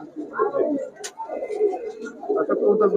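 Pakistani high-flyer Giribaz pigeons in a shop, soft repeated cooing close by, with people talking over and between the calls.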